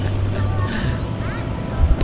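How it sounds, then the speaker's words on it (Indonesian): Klotok motorboats on a river at Alalak Berangas near the Barito River, giving a steady low chugging drone that is partly masked by wind buffeting the microphone, with a person speaking over it. "Oh banyak perahu klotok."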